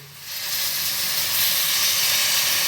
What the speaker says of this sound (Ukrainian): настав час і заливаємо наші інгредієнти водою